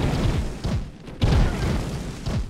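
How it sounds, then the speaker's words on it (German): Bomb explosions in Trove, a series of loud, deep booming thumps in quick succession with a brief dip before a heavy blast, close and dominant throughout. "Und wir gucken uns jetzt mal den Schaden an von einer Bombe."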